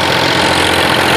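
A tractor engine runs loudly and continuously during a tractor pulling contest in a farm field, with a dense, steady, close drone for about a second.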